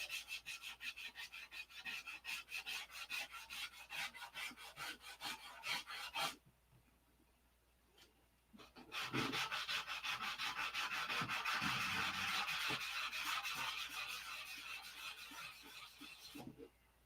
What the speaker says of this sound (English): we're going to sand it out until it's baby ass smooth